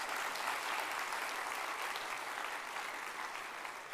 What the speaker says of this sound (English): Can we give a wonderful round of applause for these distinguished persons?